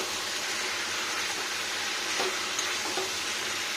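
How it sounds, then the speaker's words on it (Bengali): Cauliflower roasting in oil in a pan gives off a dense, even sizzle that stays steady and close, with a faint stir or two partway through. "এভাবে ফুলকপি রোস্ট"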